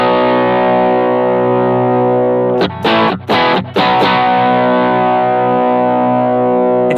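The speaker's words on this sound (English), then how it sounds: "It starts with a very simple guitar sound, you know, an overdriven Vox." An electric guitar through an overdriven Vox amp patch rings out as a loud, sustained distorted chord, briefly choked and re-struck mid-way with stuttering chops before ringing on, heard alone without any voices.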